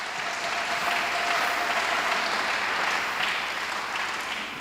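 A crowd applauds steadily to welcome leaders at a gathering in Mwanza, a dense, even clapping that holds at a constant level throughout.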